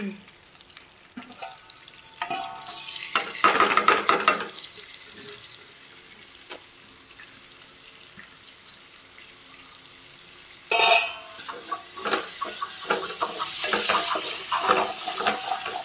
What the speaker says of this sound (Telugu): ఆయిల్ వేడవుతున్నప్పుడు ఉల్లిపాయ, పచ్చిమిరపకాయ ఇంకా కొత్తిమీర వేసుకోవాలి